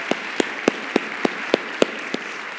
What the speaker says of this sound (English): let me get y'all to give a big round of applause to Matt and to the entire Road Family Minist